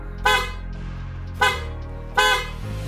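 A vehicle horn honks three times, short loud blasts spaced about a second apart over a low idling hum.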